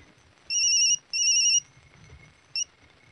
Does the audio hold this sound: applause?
no